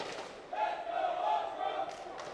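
A crowd at a Call of Duty League esports event chants "Let's Go Ultra" in a rhythmic group cheer, held briefly and heard from a distance in an arena.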